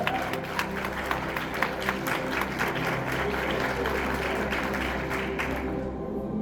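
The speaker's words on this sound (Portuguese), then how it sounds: "Aplauda o Senhor, igreja." A church congregation applauds with steady, many-handed clapping over a sustained musical backdrop, then thins out near the end.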